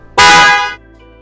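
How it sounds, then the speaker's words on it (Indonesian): A European snail-type (keong) car horn gives a single loud, bright honk lasting about half a second, then cuts off into quiet. "Jadi itu yang namanya klakson Eropa."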